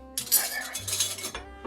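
Metal spoons clinking and rattling as a soup spoon is handled, a few sharp bright chinks and scrapes up close, with no talking.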